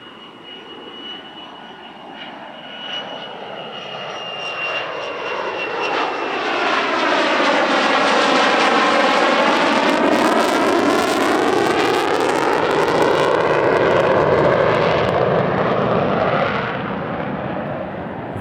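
A US Navy F-35C fighter jet passes at the California International Airshow with a loud, rising roar that swells to a long sustained peak, shifting in pitch as it goes by, then begins to fade.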